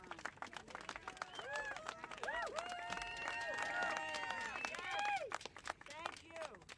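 An audience at a Democratic political event gives a round of applause for a survivor who has come to speak. Dense, fairly soft clapping is mixed with cheering voices and whoops throughout.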